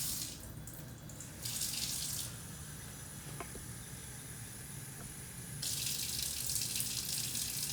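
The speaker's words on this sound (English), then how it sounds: "you're gonna add 3/4 of a cup of water." Water pours from a tap in two short hissing bursts into a bowl of scone mix, a quiet gap between them, close and fairly soft.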